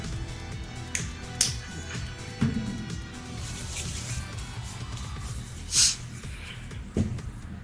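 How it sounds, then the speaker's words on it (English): A person blowing their nose once in a short, breathy burst, surrounded by quiet shuffling, small clicks and faint room noise. "I just really need to blow my nose"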